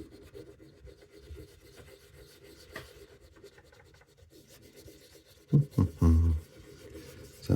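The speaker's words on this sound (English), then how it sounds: "Let's rub that out." An eraser rubs out pencil marks on paper, quiet scrubbing strokes at first, then several louder, close bursts of brisk rubbing near the end.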